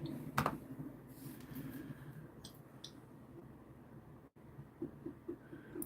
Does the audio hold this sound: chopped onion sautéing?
no